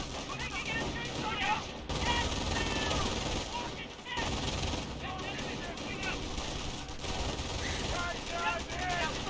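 Machine gun fire from MG teams and MG bunkers in the video game Company of Heroes: dense, continuous bursts of automatic fire with someone talking over the battle throughout.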